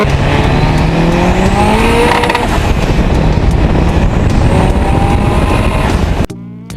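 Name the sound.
modified VW Golf Mk1 engine revving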